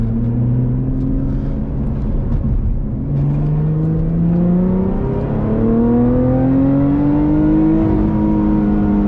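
A 2021 Lotus Evora GT in normal mode with the exhaust valve closed, a steady engine drone heard from inside the car, its pitch climbing smoothly through the gears as it accelerates, fairly loud with no talking.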